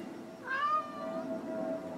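A cat lets out a single clear, drawn-out meow at close range over a quiet background hum, with no talking.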